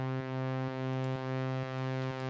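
A plain Serum synth tone from oscillator 1, with no automation, sustains as a steady buzzy harmonic drone. It is fairly quiet, with faint regular pulses repeating roughly every half second and no voices.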